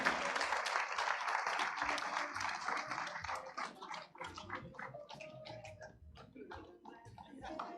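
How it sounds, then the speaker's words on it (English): An audience at a climate justice conference of the Environment & Land Court applauds, a dense burst of clapping that gradually thins into scattered, individual claps. "A round of applause to everyone."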